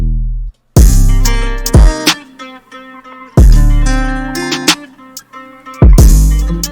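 A punchy electronic beat made in FL Studio plays, with deep bass hits with raised attack landing in a bouncy rhythm and gaps of silence between phrases.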